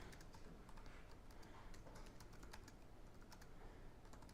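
Rapid typing on a computer keyboard, steady dense clicking of keys close by, continuing without pause and with no voices.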